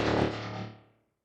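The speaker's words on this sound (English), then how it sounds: "The third one, reverb, spectral, resonator, and auto pan." A single synth stab from a psytech production, processed through reverb, spectral, resonator and auto-pan effects, rings out loudly with a metallic, resonant tone and fades smoothly to silence within about a second.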